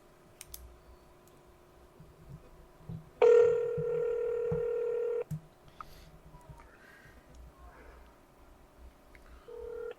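During a live radio show call, a telephone line gives a loud steady dial or call tone lasting about two seconds amid faint clicks, with quieter background sounds before and after.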